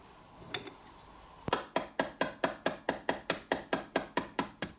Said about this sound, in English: If you carefully push the pin out, I might have to give this one a little tap.